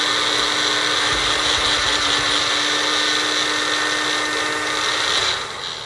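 A loud, steady high-pitched blender whirring continuously, grinding oats into flour for several seconds before winding down at the end.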